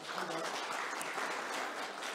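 Audience applause at an agricultural outlook forum during panelist introductions, a short, dense, even patter of many hands clapping at a distance.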